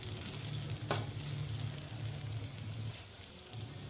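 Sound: onions stir-frying in a pan

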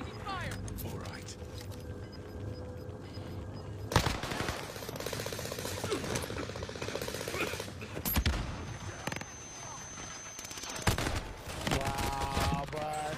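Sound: gunfire in an online video game

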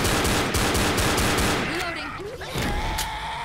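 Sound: gunfire in the video game Left 4 Dead

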